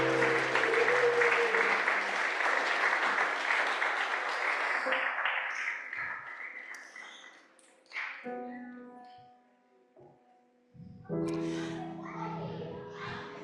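A church congregation applauds in a dense, loud burst that fades away over several seconds, followed by scattered quiet chatter and children's voices.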